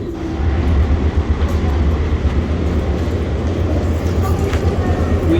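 Train at Los Angeles Union Station: a steady, loud low rumble of rail cars and station machinery fills the whole stretch, with faint background chatter mixed in.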